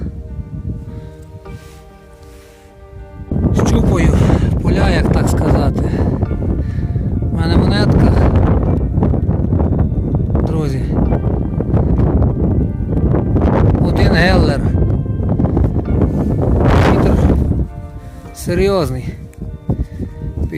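Strong wind buffets the microphone in heavy, roaring gusts for most of the clip, with a voice speaking intermittently underneath.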